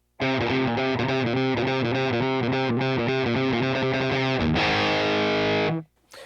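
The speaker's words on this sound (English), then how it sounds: "Now let's hear our dry tone before I go any further." A clean electric guitar riff plays alone through a Boss Katana MK amp, dry tone, steady picked notes, ending on a sustained strummed chord that rings out and cuts off.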